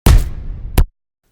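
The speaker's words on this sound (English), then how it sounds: "this is a hit from Serum that I imported" A layered, distorted impact hit built in Serum for rock and metal production: a loud, heavy broadband slam with a noisy decaying tail, followed by a second shorter punch before cutting to silence.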